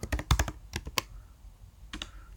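Quick irregular keystrokes clack on a laptop keyboard while coding JavaScript, a cluster of taps followed by a pause and a couple more near the end.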